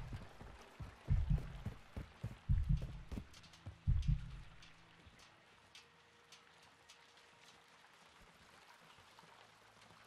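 A low, thudding heartbeat from the video game Modern Warfare 2 pulses in paired beats, loud at first and then fading away, over faint ambient game noise with no talking.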